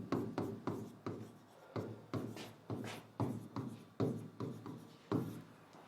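Chalk or marker strokes scratch rhythmically across a board during an English grammar lesson, a steady run of short, close scraping bursts with brief pauses between them and no voice.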